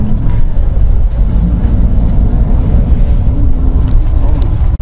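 A car drives through the streets of Rome, giving a steady low engine and road rumble with traffic noise that continues throughout, with no pauses.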